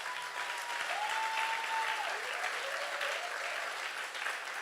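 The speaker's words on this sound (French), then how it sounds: "c'est bon d'acclamer, il faut acclamer." Congregation clapping steadily in a French-speaking church service, a continuous wash of applause with a faint sustained tone gliding underneath.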